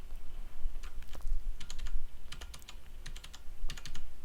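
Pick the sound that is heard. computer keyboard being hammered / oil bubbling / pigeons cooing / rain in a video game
computer keyboard being hammered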